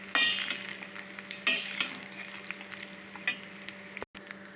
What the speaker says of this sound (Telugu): దీన్ని ఇలాగా కలిపించుకోవాలి